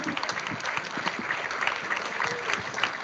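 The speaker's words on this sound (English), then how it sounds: "Please give a warm round of applause to Greg Garcia." An awards show audience claps steadily, a dense and even round of applause at moderate distance, with no voices over it.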